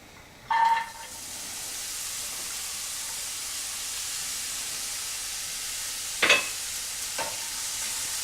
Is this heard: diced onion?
yes